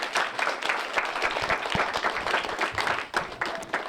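Lively clapping from a small audience, close and uneven, with individual claps standing out and a few voices mixed in.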